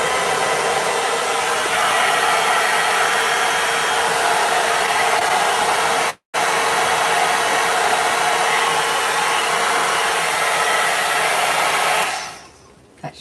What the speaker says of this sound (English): You can use any blow dryer at all